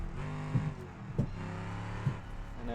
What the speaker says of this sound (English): Bit in the power, and then it brings the front end into the drift.